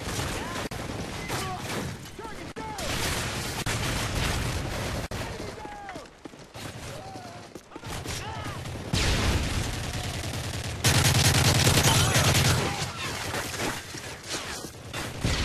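An assault rifle fires in a shooter video game. Bursts of gunfire come in uneven stretches of rapid shots, mixed with mechanical clatter and other game noise, some passages louder and denser than others.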